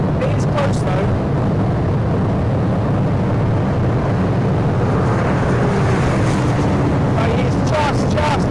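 A Porsche 911 GT2 and a supercharged Corvette ZR1 accelerate side by side in a drag race, giving a loud, steady engine roar with rising tones. Someone talks over the sound throughout.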